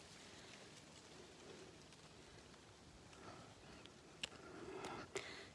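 Soft, steady rain patters quietly in the background, with a few louder drips toward the end.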